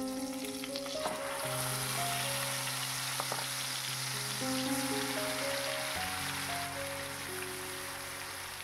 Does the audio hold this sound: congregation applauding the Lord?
no